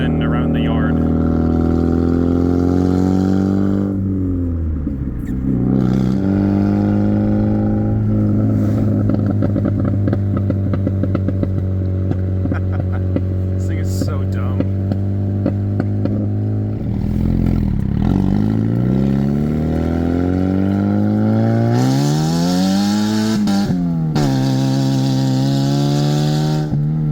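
An old Chevy Aveo on its first test drive, engine loud and close as it revs, shifts and climbs through gears, with pitch rising and falling across the run and a voice briefly heard.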